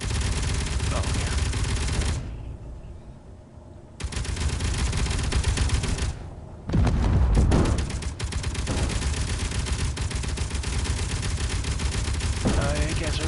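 Rapid gunfire and missile blasts in the video game Helios Underground Survival, dense bursts of automatic shots pounding almost continuously with two brief lulls, loud and close, with voices talking now and then.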